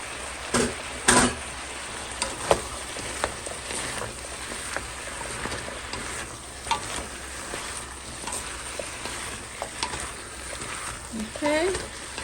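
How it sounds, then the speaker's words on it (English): Yellow squash is dropped into a hot pan and stirred, giving a steady sizzle with scraping and clinking of a utensil, a louder clatter early on and occasional soft voice. "Now I'm gonna add yellow squash."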